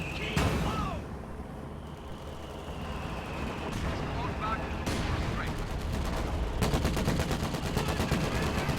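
Rapid gunfire in a war video game aimed at Panzer Grenadiers, sharp shots and machine-gun bursts building into a dense rattling barrage over rumbling battle noise, with a commentator speaking throughout.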